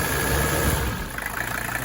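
A Mercedes W123 300D diesel engine idles steadily at close range, a low continuous rumble with a faint high whine and a slight pulsing unevenness toward the end.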